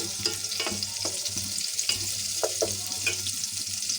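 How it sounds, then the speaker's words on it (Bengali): Onion fries in a pan with whole garam masala and cardamom, giving a close, steady sizzle broken by bursts of stirring as a utensil scrapes the pan. "পেঁয়াজটা আমার প্রায় ভাজা হয়ে আসছে"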